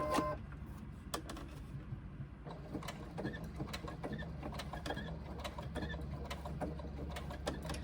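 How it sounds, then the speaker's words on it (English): A sewing machine stitches a diagonal across fabric inside a sewn box on a pouch, giving a steady mechanical whirr with rapid needle ticks and a few brief pauses. "So we're actually sewing across inside the box that we've just sewn."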